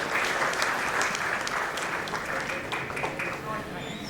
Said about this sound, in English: Let's have a huge round of applause for our panelist moderator